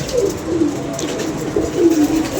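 Pigeons at a rooftop loft coo in soft repeated rolling phrases, several low calls close by with faint background noise and no talk.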